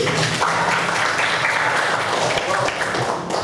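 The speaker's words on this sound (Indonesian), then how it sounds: "beri tepuk tangan untuk Pak Asri" A classroom group claps for a student teacher during a civics lesson, a short burst of close, fairly loud applause lasting a few seconds.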